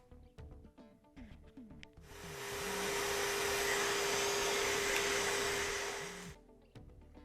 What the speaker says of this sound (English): we're just going to use our dryer now, our vacuum to get in here and pull all that away.